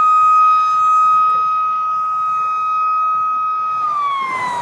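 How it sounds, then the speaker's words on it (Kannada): A dam warning siren at Markonahalli Dam holds one loud, steady electronic tone that dips slightly in pitch toward the end, alone over low background rumble. "ಸೊ ಕೇಳಿಸ್ತಾ ಅನ್ಸುತ್ತೆ ನಿಮ್ಗೆ ಸೈರನ್ ಸೌಂಡು."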